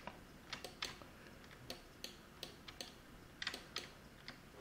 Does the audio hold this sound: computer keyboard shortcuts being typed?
yes